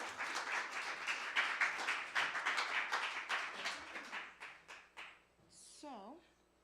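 Applause and clapping from a live spoken word audience at the Old Jail, a dense burst of hands that thins and fades over about five seconds, then a brief voice at the end.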